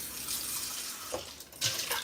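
Water runs from a tap to top up a supply, a steady, fairly soft hiss with a couple of brief splashy bursts near the end, no voices.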